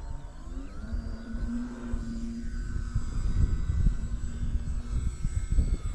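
A 3D-printed PZL.50 model airplane flies past at speed, a steady engine drone with a whining tone that rises and swells as it approaches, fairly loud throughout with no talk.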